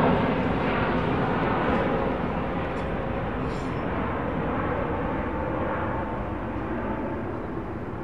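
A China Eastern Boeing 777 departing Heathrow's 09R, a steady broadband jet roar that fades slightly toward the end, with no talking.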